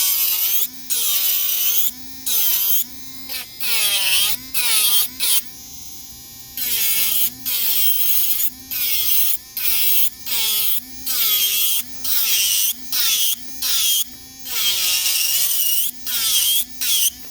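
A Kredioo electric nail drill grinds into an acrylic nail, a steady high buzzing whine broken into repeated bursts with short pauses, the pitch sagging slightly as the bit bites, close and loud.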